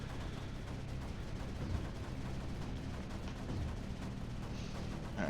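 Mortar fire in the strategy game Creeper World 4, a dense continuous barrage of overlapping booms and crackling blasts at steady loudness, with no talk.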